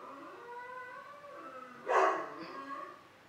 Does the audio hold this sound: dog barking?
yes